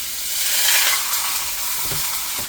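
Chuck roast sears in hot oil with a loud, close sizzle and hiss, plus a couple of soft knocks as the meat shifts in the pan.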